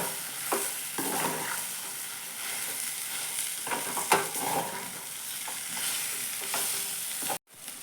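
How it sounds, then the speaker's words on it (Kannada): Potato filling for burgers fries and sizzles steadily in a pan while a spoon stirs and scrapes through it in irregular bursts, close and fairly loud, with no talking. "ಇದನ್ನು ಚೆನ್ನಾಗಿ ಫ್ರೈ ಮಾಡಿ ಒಳ್ಳೆ ಮತ್ತೆ ಮಿಕ್ಸ್ ಮಾಡೋಣ"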